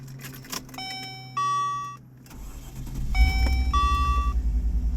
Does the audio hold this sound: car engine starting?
yes